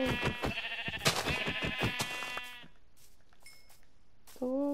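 Several Minecraft sheep bleat in quick succession, loud and close with a harmonic, wavering tone, then a short pause before one more bleat at the end.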